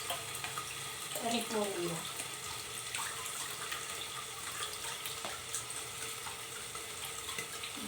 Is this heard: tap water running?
yes